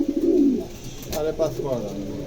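Pigeons for sale at a bird market before Eid give a short soft throaty coo close by, with people talking in the background.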